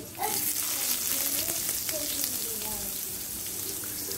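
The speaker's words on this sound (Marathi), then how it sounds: "त्याचप्रमाणे थोडे जिरे आणि कढीपत्ता आपला मस्तपैकी फोडणी तडतडलेली आहे" A tempering of mustard seeds, cumin and curry leaves sizzles in hot oil in a kadai for a chutney, making a steady close frying hiss with faint crackle throughout and no talking.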